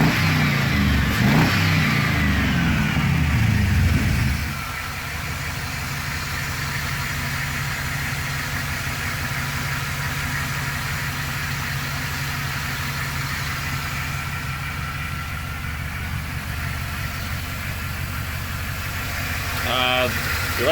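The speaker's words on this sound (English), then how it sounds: "True Dual has a weird sound to it. I kind of like it for this." A 1948 Mercury truck with true dual exhaust revs loudly at first, then settles into a steady, low rumbling idle that continues for a long stretch, with a brief rise in engine noise near the end.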